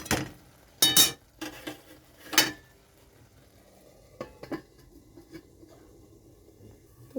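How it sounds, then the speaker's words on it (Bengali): A metal lid comes off a cooking pot of prawn and potato bhapa with a few sharp clinks and clatters, then softer scattered taps and faint kitchen noise. "তো চাপাটা নামিয়ে নিচ্ছে।"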